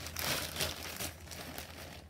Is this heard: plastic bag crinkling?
yes